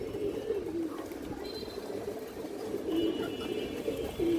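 Pigeons coo repeatedly at close range in a loft where a female pigeon is being shown, the low throaty calls rising and falling steadily against soft background noise.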